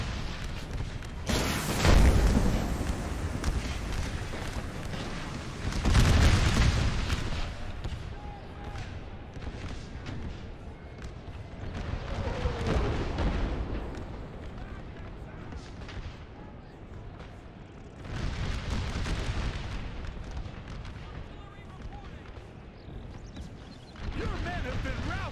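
Artillery fire in a Napoleon: Total War battle running the Gettysburg American Civil War mod, with several heavy booming volleys spaced apart over a constant rumble of distant gunfire, while someone narrates over it.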